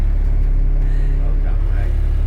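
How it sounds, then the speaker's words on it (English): Scaffold truck reversing at a campsite, a close, steady low engine rumble holding for a couple of seconds with a voice speaking over it. "the scaffold truck is moving backwards"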